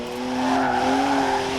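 BMW car drifting in the racing video game Forza Horizon 4, rear-wheel drive: a loud, sustained engine whine with tire squeal holding steady through the slide, no voices.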